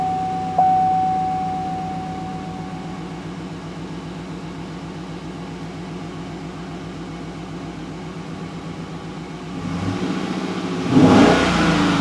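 A 2007 GMC Yukon V8 engine, with newly replaced injectors, cranks and idles with a rhythmic, uneven pulsing that stumbles like a misfire, a brief beep at the start, then a louder surge near the end.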